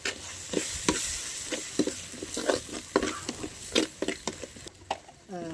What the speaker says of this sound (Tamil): நல்லா கலக்கி விட்டுக்கிறேன்